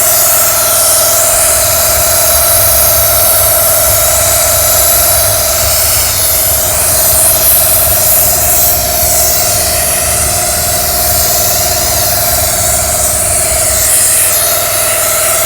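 A high-pressure steam cleaner set to 150 degrees hisses and sprays steadily and loudly up close, with its boiler shut off and the low burner rumble dropping out near the end.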